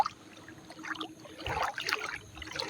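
Legs wading through knee-deep water in a forest at night while going fishing, soft sloshing and trickling splashes in uneven steps, close and fairly quiet.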